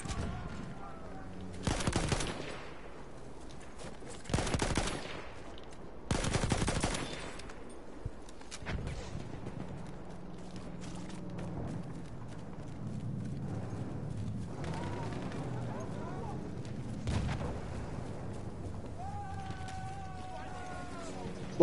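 Battlefield 1 combat: several loud bursts of rapid gunfire crack out early, then sporadic shots follow under galloping hooves and a horse's whinny, with battlefield ambience throughout.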